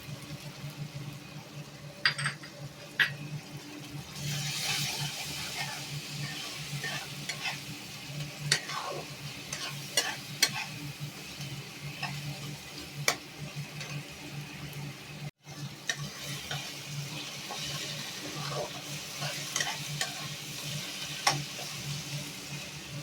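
Garlic paste being stirred and fried in a pan, a long steady sizzle with scattered spoon scrapes and clicks, moderately quiet and close, with a brief dropout midway.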